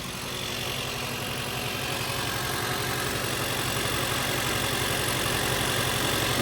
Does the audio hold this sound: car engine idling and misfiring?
yes